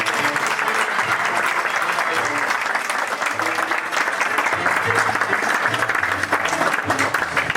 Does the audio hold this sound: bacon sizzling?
no